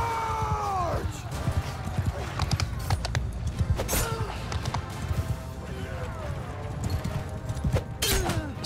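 Cavalry horses charge in a battle in the video game Mount & Blade II: Bannerlord, a din of hooves and battle noise beneath loud whooshes and sweeping effects, with talk in the clip.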